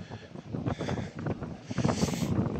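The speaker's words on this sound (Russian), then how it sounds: "И сейчас еще и ветер такой сильный поднялся." Strong gusts buffet the microphone on a rainy seafront promenade in Yevpatoria, a rough, surging rush of wind swelling and easing over a few seconds, fairly faint overall.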